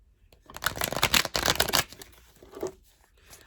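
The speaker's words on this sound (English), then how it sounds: "Feel like do another shuffle." Tarot cards are shuffled by hand in a quick flurry of riffling, crisp papery flicks for about a second and a half, then a faint soft tap and near silence.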